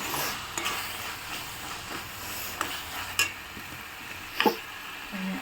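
Chickpeas and tomato are stirred in a pan, giving quiet, soft scraping strokes over a faint, steady sizzle, with an occasional light tap of the utensil.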